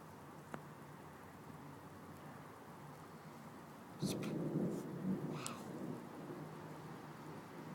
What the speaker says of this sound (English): now here's another storm coming